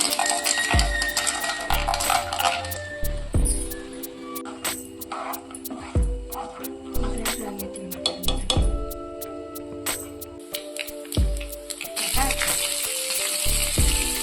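Mustard seeds, cumin and peanuts fry in hot oil for a North Karnataka girmit, a steady crackling sizzle dotted with sharp pops and small metallic clinks, with a tonal layer running underneath throughout.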